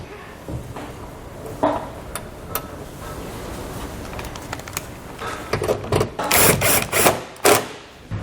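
Two 7mm screws being driven back into the lower edge of a 2020 Chevrolet Equinox bumper, heard as a run of close, quick ratcheting clicks that grow louder and denser toward the end, with no talk.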